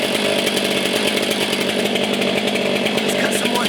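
A Stihl 500i chainsaw cuts through wood at full throttle, a loud, harsh, continuous high-revving buzz right up close, steady for the whole stretch with no pauses.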